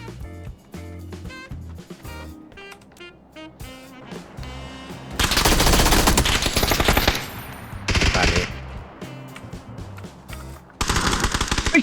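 Gunfire in the PUBG video game: bursts of rapid automatic shots and single cracks, loud and close, with long sustained volleys between quieter gaps.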